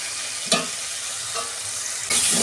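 Chilli powder and ground spices sizzle in oil as they are stir-fried, with a steady hiss broken by a few brief spatula scrapes against the pan.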